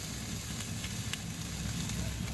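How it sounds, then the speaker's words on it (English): Breakfast food sizzling in a pan on a woodstove inside a hot tent, a steady close hiss and crackle with small pops, continuous throughout with no talking. "we're going to let these sit and sizzle"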